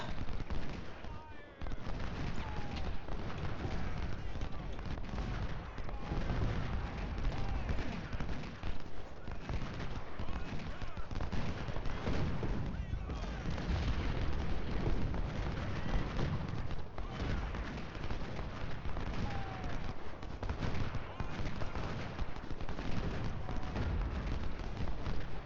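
Dense, continuous battlefield din of massed musket volleys and artillery booms in the Civil War strategy game Ultimate General: Civil War, a steady loud roar with no pauses over the whole stretch.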